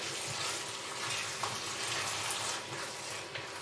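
Tomato passata frying in a pan while being reduced for borscht, giving a steady, close, moderately quiet sizzle with soft crackles throughout and no voices.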